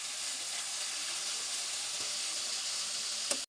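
Dried fish (shutki) fries in a pan with a steady, even sizzle that stays constant throughout, close and moderately quiet, ending with a single small knock.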